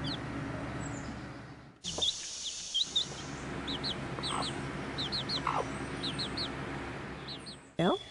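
Backyard chickens cluck and chirp over a steady, busy outdoor background, with short calls scattered throughout and a brief dip in the middle.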